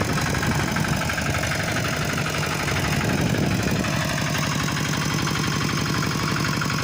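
A tractor engine drones steadily while plowing sticky clay soil in a rice field, a loud, close, low rumble with rhythmic knocking and vibration that shifts in tone partway through, with no talk over it.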